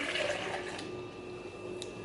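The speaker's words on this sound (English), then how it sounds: "And then I'm just gonna pour in my coffee." Coffee pours into a blender, a soft liquid splash and trickle that is fuller at first and then thins out over a couple of seconds, with no one talking.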